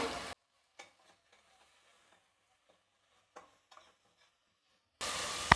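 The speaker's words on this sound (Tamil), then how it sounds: "எல்லாத்தையும் சேர்த்து நல்லா ஒரு 2 நிமிஷத்துக்கு கலந்து கொடுத்துக்கலாம்" A spoon stirring spices and salt into tomato rice masala in a pan, with soft scattered scraping taps in a quiet stretch between louder bursts of sizzling at the start and end.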